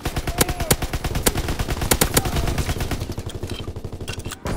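Rapid gunfire in the video game Call of Duty WWII during a team deathmatch, dense bursts of loud close shots in a fast steady rhythm that thin out toward the end.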